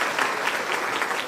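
Wedding guests at a Christian marriage ceremony applaud in a steady, moderately quiet patter of many hands, an even wash of clapping with no voices over it.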